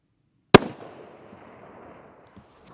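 One sharp, loud rifle shot from a Savage 6.5 Creedmoor Ultralite cracks out and trails off into a fading rumble, followed by near quiet.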